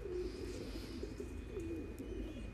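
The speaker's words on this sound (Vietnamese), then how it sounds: "ở trại mình lúc nào anh em cũng thấy à, à, chim bồ câu ra ràng rất là nhiều" Pigeons on a pigeon farm coo steadily in low, rolling murmurs, several birds overlapping close by against a constant background hum with faint chirps.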